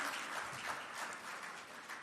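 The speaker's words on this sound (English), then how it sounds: "Give yourselves a big round of applause for being here." An audience at an official launch event for medicinal cannabis special permit programmes applauds, a dense, even wash of many hands clapping that holds steady throughout at a moderate distance.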